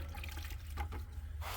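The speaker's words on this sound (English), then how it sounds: "I'll dip my finger in the bucket" A finger dipped into a bucket of water while caulking baseboards: a soft, faint little splash and trickle over a low background hum.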